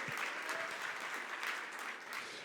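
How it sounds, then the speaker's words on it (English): Conference audience applauding at an opening ceremony, a steady dense wash of clapping throughout, moderately distant and even in level with no talk over it. "Let's give them a round of applause."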